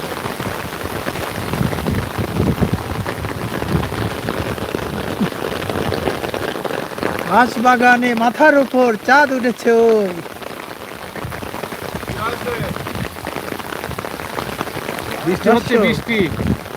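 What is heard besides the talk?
rain falling beside Chiknai river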